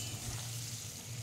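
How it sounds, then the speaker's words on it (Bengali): Cut potatoes frying with a little salt and turmeric in a kadai for vegetarian aloo dum, giving a soft, steady sizzling hiss over a low hum, fairly quiet and continuous. "আলুটা ভাজা হচ্ছে"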